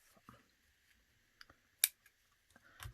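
Scissors trimming paper cardstock for a stamped card: a few quiet, sparse snips and clicks close by, with one sharper cut standing out among them.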